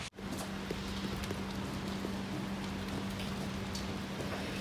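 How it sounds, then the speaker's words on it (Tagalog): Heavy rain pours down steadily and loudly, a dense continuous hiss of drops on surfaces that holds for the whole stretch, with no voices. "Bumuhos na ng malakas ang ulan."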